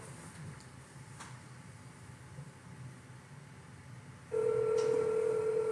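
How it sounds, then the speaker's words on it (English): A telephone call is placed: after faint background hiss, a steady, loud phone-line tone starts abruptly and holds to the end. "we're going to go ahead and make that phone call right now."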